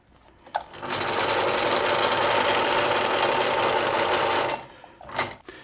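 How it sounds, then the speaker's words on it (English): A Necchi Lydia sewing machine runs a straight stitch in one continuous burst of about four seconds, a loud, even, rapid mechanical whir that starts and stops cleanly, followed by a couple of short handling clicks. "I've got the machine set on just straight stitch there."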